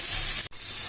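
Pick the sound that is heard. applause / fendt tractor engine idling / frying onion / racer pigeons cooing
frying onion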